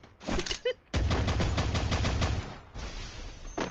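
Gunfire from the mobile shooter Free Fire: a short burst, then a loud rapid automatic volley and a further burst, close and dominant with no talking.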